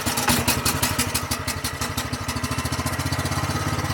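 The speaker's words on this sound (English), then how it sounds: "I gotta keep this thing on idle because it can't gravity feed in here fast enough to keep up with the pump once it gets rolling here" A small pump engine idles steadily while draining a marshy pond, its fast, even chugging pulses clattering close by and unbroken throughout, with no one talking.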